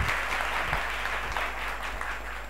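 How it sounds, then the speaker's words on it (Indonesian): Applause for a school robotics team at a youth event, a dense steady clapping from an indoor audience that fades slightly over a few seconds. "Beri aplaus yang meriah dong untuk mereka."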